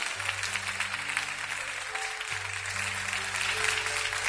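A church congregation claps in a dense, continuous wash of applause, with sustained musical tones holding underneath and swelling slightly toward the end.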